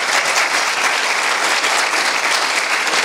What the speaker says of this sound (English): Everyone give her a round of applause, please.